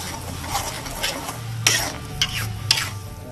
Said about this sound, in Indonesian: Si bumbu yang udah nyatu usai di blender digoreng pakai minyak yang udah butek